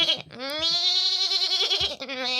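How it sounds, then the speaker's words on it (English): Lambs bleat close by in a few loud, wavering calls, one drawn out and another shorter one following. "but the sound of lambs"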